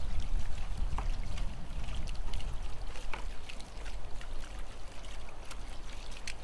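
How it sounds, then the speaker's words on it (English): Water pours steadily in an outdoor fountain with its pump running, a continuous loud rushing and splashing trickle that holds the same level throughout, with no voices. "My pump is running properly, I've got the flow right."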